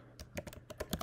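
Someone types caption text in Premiere Pro on a computer keyboard: about eight quick, faint, close key clicks arrive in an uneven burst.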